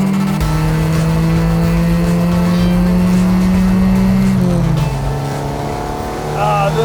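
The Superboss car's engine revs hard toward its 7,000 RPM redline, a loud, close, steadily climbing roar with a brief dip during a shift before it pulls again.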